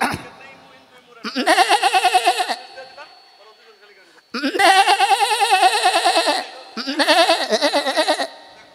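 A voice mimics a goat's bleat in a comedy routine, three long wavering nasal bleats, loud and close, separated by short pauses.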